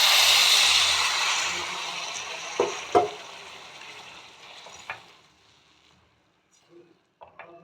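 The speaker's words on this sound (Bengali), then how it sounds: "এবার জল দিয়ে দেবো।" Water poured into a pan of frying dalia pulao gives a loud sizzle that fades steadily, with a few clinks of a utensil against the pot.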